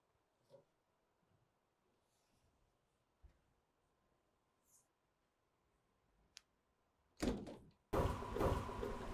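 An RV deck door on a 2026 Newmar Canyon Star: a few faint clicks as the trigger and handle unlock, then a loud clunk and a heavy rattling slide as the door is pulled down.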